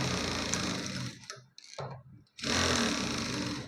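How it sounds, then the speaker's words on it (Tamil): A sewing machine stitches a blouse shoulder seam in two loud, fast, whirring runs, close up, with a brief quiet pause and a few mechanical clicks between them. "இந்த மாதிரி ரெண்டு தையலாக போட்டு எடுத்துக்கலாம்"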